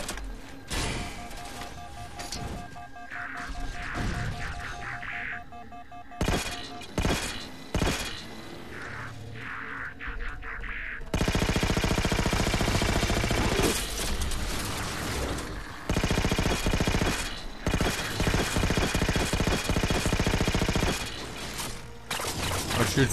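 Halo 4 weapon fire with heavy spread, a rapid mechanical, ratcheting clatter that runs continuously and loud through the second half, after choppier bursts and game sounds early on.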